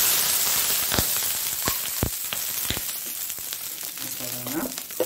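Water is poured onto a hot horse gram dosa pan in a Mangalore-style kitchen, giving a steady close hiss with sharp crackling pops scattered through it.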